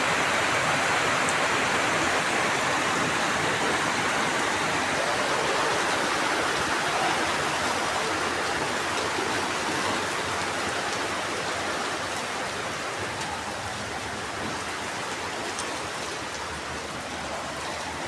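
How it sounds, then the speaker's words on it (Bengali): Heavy rain pours down in a steady, dense hiss that stays loud and even throughout, with no voices over it. "অনেক জোরে নামছে বৃষ্টি"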